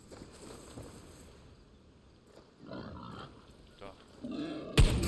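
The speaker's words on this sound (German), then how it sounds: "Ich höre hier Schweinchen." Pigs grunt and snort in the video game Far Cry 6, rough bursts coming in short clusters that grow louder toward the end, heard over a quiet game soundscape.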